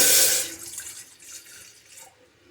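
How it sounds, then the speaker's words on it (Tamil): A short splash of about a glass of water poured into a cooking pot for a greens dish, loud at first then trailing off into soft drips and trickles. "இதில் வந்து ஒரு கிளாஸ் தண்ணி ஊற்றுறேன் நான்"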